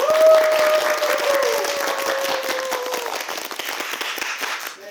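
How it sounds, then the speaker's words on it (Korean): An audience applauds to welcome a lecturer at a Cheondogyo interfaith event, loud sustained clapping from a crowd that gradually thins and fades out at the end. "큰 박수 부탁드립니다."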